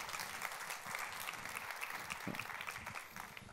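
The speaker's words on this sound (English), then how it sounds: "give her a round of applause" An audience applauds Anastasia, a Fluorosat nanosatellite startup founder, at a tech business talk, a steady wash of many hands clapping at moderate level throughout.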